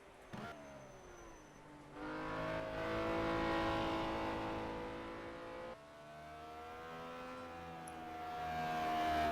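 A racing car engine in a sim racing video game, revving and droning through rising and falling gear pitches, a dip as it shifts midway, then climbing again, loud and continuous with no talk.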